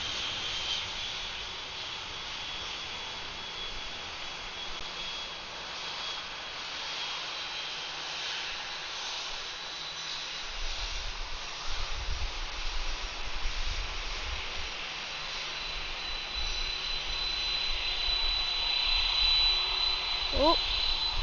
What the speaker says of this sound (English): Here's an A321 and an A320 on final for runway, short final